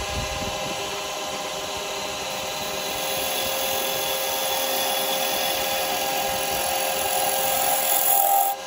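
Spindle gouge cutting a wooden duck egg cup on a spinning lathe, a continuous hissing scrape over the motor's whine that grows slightly louder before stopping abruptly at the end.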